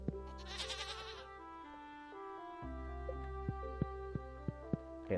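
Goat bleating in the farming video game Stardew Valley, a wavering electronic-sounding call over steady game music, followed by a string of soft rhythmic clicks.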